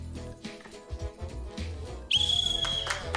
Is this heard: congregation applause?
no